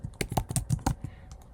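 Fingers tap on a computer keyboard in a quiet room, a quick run of about eight close, crisp keystrokes that fade into a couple of softer taps at the end.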